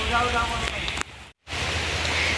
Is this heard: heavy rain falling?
yes